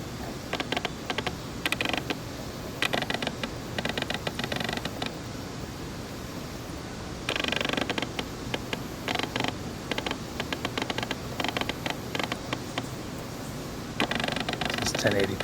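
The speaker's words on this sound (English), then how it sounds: "You can definitely hear that there's autofocus noise." Faint, irregular mechanical whirring and clicking bursts of a Sigma 17-50 f2.8 lens autofocus motor on a Canon SL2 come and go over a steady background hiss of light wind, close to the microphone.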